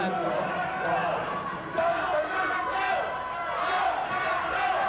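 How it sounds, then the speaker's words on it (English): A wrestling crowd at a 1990 Texas Championship Wrestling event chanting in unison, a dense, rhythmic roar of many voices that stays loud and steady throughout. "the crowd's coming up with "Let's go, Shaun.""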